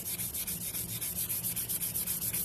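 Rhythmic back-and-forth sanding strokes on an ebony guitar fingerboard, close and steady, with a regular scratchy pulse and no voices.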